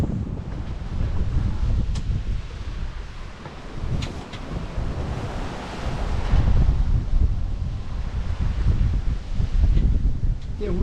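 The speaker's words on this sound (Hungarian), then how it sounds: "Ilyen 26 csomós szelek voltak, ez Buford 6-os, esetleg a 7-es alja, de eléggé nagyok a hullámok" Beaufort 6 wind, around 26 knots, roars across the open Atlantic Ocean at dawn, with large waves of about four metres surging and crashing beside a sailing boat, a loud continuous rush with gusting swells.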